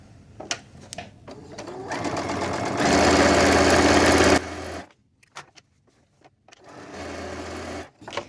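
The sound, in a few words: sewing machine quilting a keychain wallet in diagonal lines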